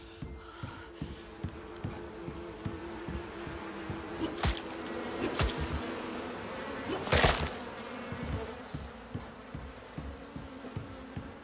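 Bees buzz steadily in the video game Caves Only, a faint, continuous drone with a few sharper clicks and bursts, and no voices over it.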